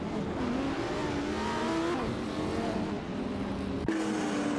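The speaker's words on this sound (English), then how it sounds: "Keep them car engine noises coming" Race car engines roar continuously on a track, a loud sustained drone with shifting revs as cars accelerate, dense and unbroken with no talking.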